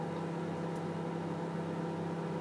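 A microwave oven runs while meringues cook inside, giving a steady low hum and whir that stays constant and near, with no talk.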